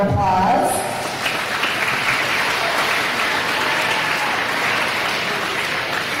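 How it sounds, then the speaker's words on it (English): Applause at a gala, where the crowd claps for a gold sponsor, a loud, sustained, even roar of many hands that follows a short spoken line at the start. "A big round of applause."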